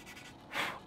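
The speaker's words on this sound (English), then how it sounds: "So I've just given this a nice little light sand now." A single brief, soft scratching rub, a light sanding stroke on a 1/48 scale plastic model aircraft, close and quiet.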